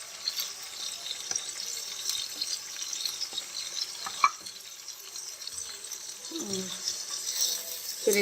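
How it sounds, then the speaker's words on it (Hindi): Mutton liver sizzles in hot oil with cumin in a pan, a steady close frying hiss with occasional stirring clinks and scrapes, while a person talks intermittently. "कलेजी को अच्छे से भून लेंगे ताकि इसमें से इसकी स्मेल ख़त्म हो जाए।"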